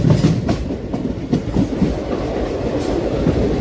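Nagarsol superfast express train, 12787, running at speed on rails, with steady rolling rumble and rhythmic clickety-clack of wheels over joints, loud and continuous with no talking.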